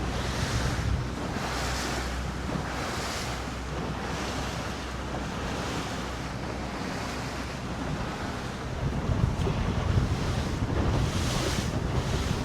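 Boat on a Florida ride pushing into the wind through waves, with continuous splashing surf and heavy wind buffeting on the microphone, growing rougher toward the end.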